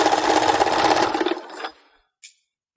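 A sewing machine runs a fast, even stitch along a fabric scarf for about a second and a half, then winds down and stops, followed by a single small click.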